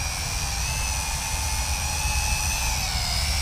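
Small electric motors of a Wltoys Q919A RC flying tank in slow flight, a steady, continuous high-pitched whine with tonal bands, close and fairly loud throughout, no voices.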